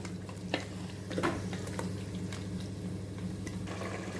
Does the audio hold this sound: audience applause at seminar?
no